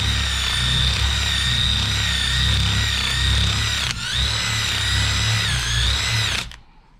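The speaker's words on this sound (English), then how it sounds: "This is just a simple wire brush on them" A wire brush spun by a power drill scrubs a CT90 engine cylinder head with valves in place, a loud steady whine with a brief dip partway, then cutting off near the end.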